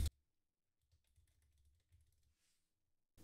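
Computer keyboard typing as a password is entered, a faint, quick run of soft key taps in an otherwise quiet room, framed by brief louder sounds at the start and end.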